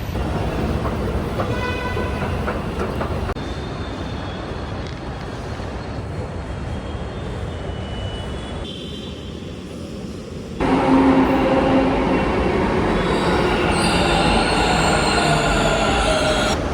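A metro train rumbles loudly along the track, its wheels letting out high, thin squeals that grow louder toward the end.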